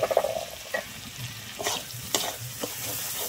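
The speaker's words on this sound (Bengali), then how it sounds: "দিয়ে আমি এবারে ভালোভাবে মশলাটাকে আবারও কষিয়ে নেব" A spice paste of ground cumin, coriander and chilli powder fries in oil for a prawn and taro-stem dish, with close, steady sizzling and the scrape and clack of a spatula stirring in the pan.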